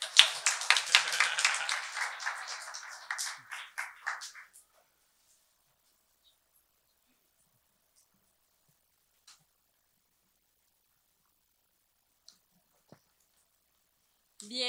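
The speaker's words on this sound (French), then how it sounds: "On applaudit Mme Prône." A congregation's brief burst of hand clapping for a woman at a church celebration, lively and close for about four seconds, then fading into near silence with a few faint clicks.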